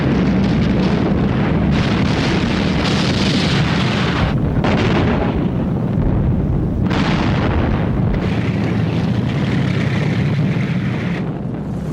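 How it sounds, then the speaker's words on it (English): Tank gunfire and explosions from a World War II armoured battle with Soviet T-34s firing at German lines at point-blank range: loud, dense rumbling blasts and bursts without pause, heavy low roar throughout. "The Soviet T-34s drove into the German lines and opened fire at point-blank range."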